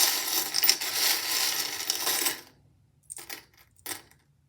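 Small metal charms dropped for a fortune reading clatter and jingle in a dense, bright spill for about two seconds, followed by two brief, sharp clinks of pieces settling, close and loud with no talking.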